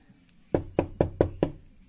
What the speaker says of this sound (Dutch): Nu moet ik komen kloppen op mijn eigen deur.